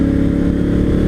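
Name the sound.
Africa Twin Adventure Sport motorcycle engine with standard exhaust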